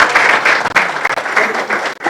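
An audience claps at a graduation ceremony, loud and close, a dense burst of applause with slight rhythmic surges lasting about two seconds.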